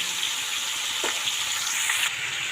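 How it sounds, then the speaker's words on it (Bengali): Potatoes and meat frying together in a pan, a steady hiss of sizzling oil that runs evenly throughout, close and moderately loud with no talking. "ভাজা চলছে আর মাংসটাও মোটামুটি আলু আর মাংস ভাজা হয়ে এসছে।"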